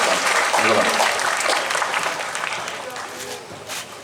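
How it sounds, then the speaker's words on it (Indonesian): Clapping from a crowd at an outdoor religious gathering in a town square, steady and fairly loud, tapering off slightly toward the end with a few voices mixed in. "tepuk tangan untuk dua kelompok tadi"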